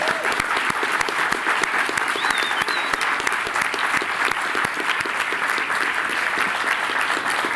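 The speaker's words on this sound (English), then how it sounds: "I think Ramon deserves an extra round of applause." Sustained audience applause at a groundbreaking ceremony for a museum project, steady and dense clapping from a sizeable crowd with a faint voice or whistle briefly audible above it.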